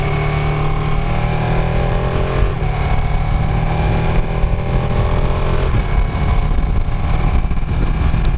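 A 2017 Ducati 959 Panigale motorcycle engine drones loudly and steadily while riding at a constant throttle, with a deep, continuous rumble, gear-whine harmonics and faint pitch shifts, heard close with no speech.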